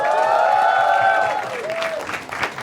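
A studio audience at an Indian comedy talent show breaks into applause. Clapping and crowd noise rise at moderate loudness, partly mixed with tonal music, then fade to scattered claps over a couple of seconds.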